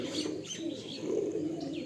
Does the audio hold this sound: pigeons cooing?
yes